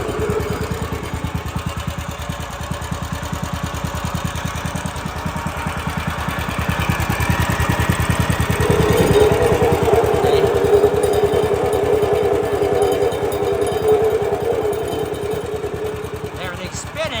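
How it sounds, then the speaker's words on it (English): A Woodland Mills HM130 Max sawmill engine runs with a steady rapid throb, and a noisy centrifugal clutch adds a rising grinding whine partway through, with someone talking over it. "what I think it is centrifugal clutch in there, but it's making all kinds of noise"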